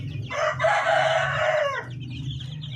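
A native Darag chicken lets out a long, drawn-out crowing call over a low background hum, then falls quiet.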